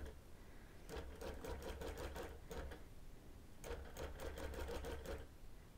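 A longarm quilting machine stitches a quarter-inch seam on quilt binding in two steady bursts of rapid stitching, separated by a short pause, with a constant low motor hum underneath and no talk.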